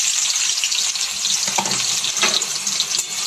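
Chopped onions frying in oil, a bright, loud, continuous hiss of sizzling close by, with faint stirring clinks and no talking.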